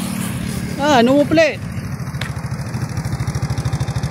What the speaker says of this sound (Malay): Tengok tu, motor Kapcai.